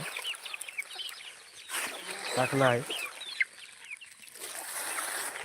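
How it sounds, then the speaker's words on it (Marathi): Free-range desi hens cluck and chicks peep on a poultry farm, with a rooster-like call in the middle and a brief spoken phrase. "थोडा जरी आवाज दिला तरीच पिल्ले येतात पिल्ले कोंबडी सगळेच येतात"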